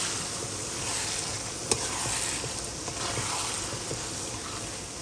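Chili is stirred into a pot of pork belly and mixed mushrooms, a constant close sizzle and bubbling hiss with one sharp utensil knock partway through.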